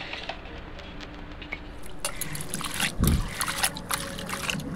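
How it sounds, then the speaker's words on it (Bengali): Leafy greens being washed by hand in water, with close splashes, trickles and squishy handling, one louder splash midway, and a voice speaking faintly underneath. "এই যে শাক ধুতে নিয়েছি"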